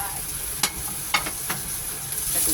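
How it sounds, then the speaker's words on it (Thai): Pork bones stir-fry with shallots and garlic in a wok, a close, constant sizzle marked by a few sharp scrapes of the spatula against the metal. "กระดูกหมูผัดกับหอมก่อน ผัดกับหอมกับกระเทียมมันจะได้หอมเนาะ"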